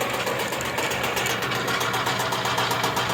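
A rebuilt DMC 40 HI-CAP rotary grain cleaner runs with its in-feed auger turning, producing a steady mechanical hum with a fast rhythmic chatter, even and moderately close.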